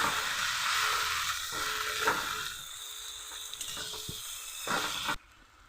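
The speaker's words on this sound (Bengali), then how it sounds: "গরম মশলার গুঁড়ো, ধনে গুঁড়ো, লঙ্কার গুঁড়ো সবগুলো একসঙ্গে দিয়ে দেবো। ভালো করে নেড়ে নেব।" Ground spices (garam masala, coriander, chilli, cumin, turmeric) being stirred as they fry in a pan for chicken liver kosha, a steady hissing sizzle with scraping strokes that cuts off abruptly near the end.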